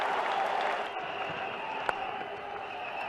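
A large cricket crowd at an India vs England one-day final cheers and applauds after a six, a broad roar that stays steady and then eases slightly, with a commentator's voice faintly beneath it.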